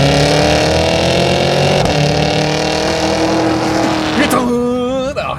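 A 2025 Cadillac Escalade V with 682 horsepower and all-wheel drive accelerates at full throttle, its engine roaring loudly and climbing in pitch through the gears, with a shift near the end and a voice briefly over it.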